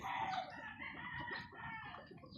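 Backyard chickens clucking on a rainy day behind a house, a steady busy mix of hen calls and a crow-like note close by, with no talk.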